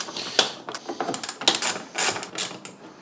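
Screws come undone on the front end of an Audi A4 B5 1.8T, heard close up as a rapid, irregular series of ratcheting clicks and metallic ticks.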